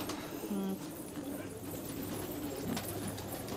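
Patiala pigeons, a large Punjabi breed, coo softly on an Old Delhi rooftop loft: a few low, brief coos rise over a steady murmur of background noise, faint and mid-distance.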